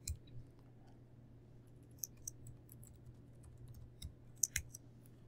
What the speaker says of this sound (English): And to type in my password.